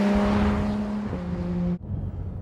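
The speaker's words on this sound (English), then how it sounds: "it revs and revs and revs" Porsche 991 GT3 engine revs hard while driving, a loud sustained harmonic drone that steps up in pitch after a shift, then cuts off abruptly near the end, leaving a low rumble.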